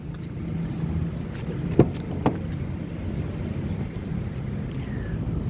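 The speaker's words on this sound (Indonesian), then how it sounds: "Nih, sekarang kita coba buka mobil." A 2011 Ford Fiesta 1.6 Sport automatic is unlocked with its flip remote key. Two short, sharp clicks come close together against a steady outdoor background hum, and the car door opens.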